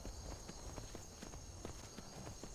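Horse hooves clip-clop along a trail in the video game Skyrim, a steady walking rhythm of soft, evenly spaced hoofbeats under a constant faint hiss.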